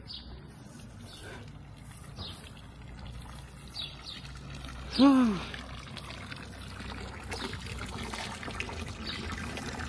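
Non-drinking water pours steadily from an outdoor tap, a continuous rushing trickle beneath a brief exclamation and faint birdsong.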